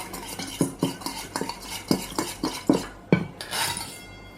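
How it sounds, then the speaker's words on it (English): Small whisk tapping and scraping against a bowl while mixing a sauce, a close run of quick clinks in an uneven rhythm with no voices. "Let's give it a bit of a whisk."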